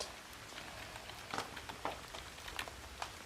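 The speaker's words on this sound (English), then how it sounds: "It was the rain. It was coming through the roof." Rain drips through a leaking roof, scattered drips pattering irregularly against a surface, several distinct plops over a soft, steady background hiss; faint and close.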